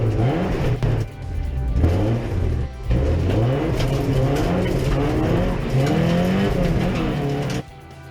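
Porsche 944 race cars at Winton raceway accelerating hard down the back straight, engines revving loud and close with rising gear-change sweeps across several shifts, running continuously for about eight seconds.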